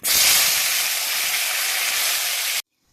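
Flat beans hit hot oil in a home kitchen with a loud, close, hissing sizzle that holds steady for a couple of seconds and then cuts off abruptly.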